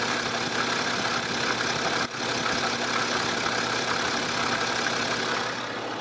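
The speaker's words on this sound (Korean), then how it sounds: "바로 제가 엔진 소리 들려드리도록 할게요" A BMW X6 with a six-cylinder diesel engine idles with the hood open, giving a steady, even hum at constant loudness for several seconds, with no voices.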